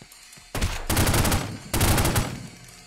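Tommy gun fire in The Godfather video game: two loud, rapid automatic bursts about a second apart, close and sharp, with no talk over them.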